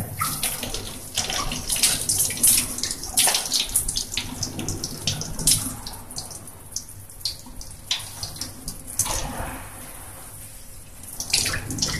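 Running tap water splashes steadily over hands being rinsed after a surgical hand scrub, a continuous broadband gush with shifting splatter and no voices.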